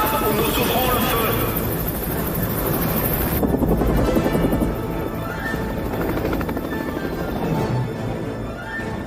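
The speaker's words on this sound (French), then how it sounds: "Je veux que cette saloperie d'hélicoptère se pose tout de suite." A helicopter's rotor and engine roar loud and steady in a tense film standoff, joined by dense broadband noise throughout, with a shift in tone partway through.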